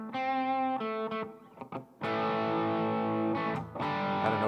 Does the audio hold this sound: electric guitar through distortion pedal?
yes